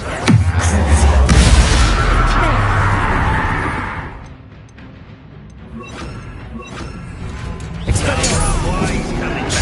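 Confringo fire explosion spell cast in the video game Hogwarts Legacy, a loud blasting burst with booming low rumble that fades out, followed by further thuds and clashes of combat.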